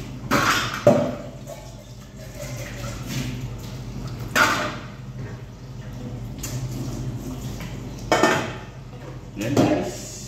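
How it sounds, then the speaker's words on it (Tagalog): Dishes and plates being washed in a sink, with intermittent clinks and clatters of crockery and cutlery over a low background hum, several sharper knocks spaced apart. "Hugasan niyo ang lababo, doblihin mo ang pag-ugas. Para sigurado na malinis ang plato."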